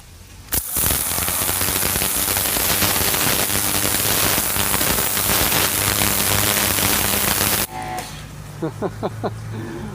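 An electric power washer blasts mortar off masonry, a loud steady spraying hiss that starts abruptly, runs for about seven seconds and cuts off, followed by a few faint clicks and knocks.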